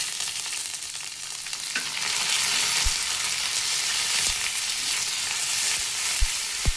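Whole spices, coriander seeds and curry leaves fry steadily in hot oil, a dense continuous sizzle with a few soft clinks of a spoon against the pan, no voices.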